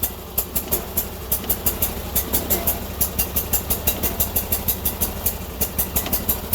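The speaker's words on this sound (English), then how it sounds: "Now it's running like it's on choke, even though I shut off the choke" The engine of a Sears Suburban loader runs close and loud on choke, with a rapid, even, pulsing beat that holds steady throughout.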